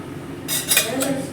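A metal kadai (wok) set down on a kitchen stove while making a spicy vegetable chapathi roll, giving a sudden clattering metallic clank followed by a brief second knock and a ringing settle, close and fairly loud.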